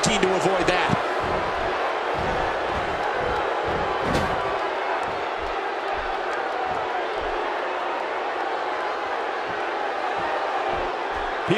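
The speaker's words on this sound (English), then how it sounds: "by the sound of this crowd, I think they're getting what they wanted" Wrestling arena crowd in the WWE 2K16 video game roars steadily as a broad, constant wash of cheering, with a few sharp thuds from the ring early on and occasional commentary voices underneath.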